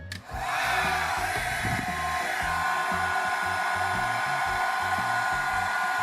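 A SilverCrest SWC 1000 D1 1000W multi-function hot air styler switches on with a brief click and settles into a steady, loud whooshing blow with a high whine. It runs continuously and close, with no voices.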